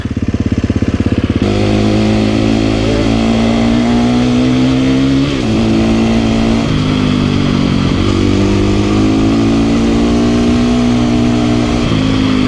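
A dual sport motorcycle engine revs loudly and up close, a sharp burst at the start giving way to a sustained rumble that rises and falls through several throttle swells, with no talking.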